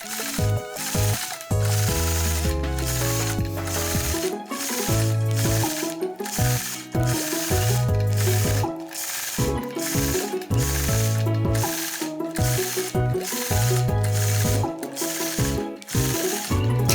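Sewing machine free-motion quilting a geometric broken-glass motif, its rapid mechanical stitching chatter running in repeated bursts with brief pauses between them, alongside steady tonal background music.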